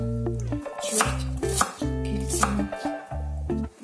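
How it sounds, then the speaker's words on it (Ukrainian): A knife chopping an onion on a board, not too thin and not too thick, for an eggplant and bell pepper salad: steady rhythmic thuds in quick bursts with short pauses, close and clear with no talking. "Цибулю нарізую ось так."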